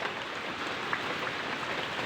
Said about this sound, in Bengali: এখনো পর্যন্ত বৃষ্টি পড়তেছে, বাসা থেকে বের হইতেই পারতেছে। সারা দিন রাত বৃষ্টি পড়তেছি।